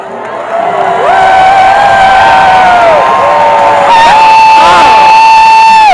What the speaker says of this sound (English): raise your voices in cheer and welcome the orator of this event, Princess Luna of Andalusia.